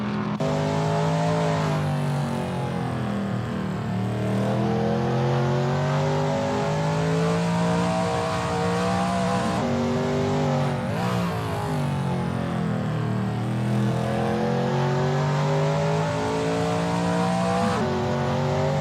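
A Shelby Mustang GT350R race car laps Willow Springs with a loud, close engine roar held throughout, rising and falling as it accelerates and shifts through corners, with no voices.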